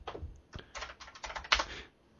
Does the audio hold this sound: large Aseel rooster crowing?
no